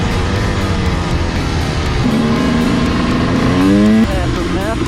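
An old Chevy truck engine runs loud and close with a dense, rough roar, its pitch climbing as it revs near the end; voices talk over it.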